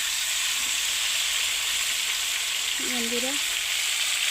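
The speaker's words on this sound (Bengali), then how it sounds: "এইভাবে ভেজে নেব ভালো করে" Chicken frying in a pan with spices, a steady loud sizzle running throughout, with a brief spoken word from a woman near the end.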